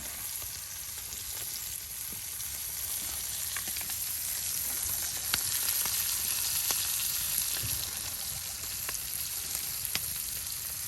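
Small puti fish fry in hot oil in a village kitchen while they are turned over, giving a steady hissing sizzle with scattered sharp pops and scraping clicks throughout.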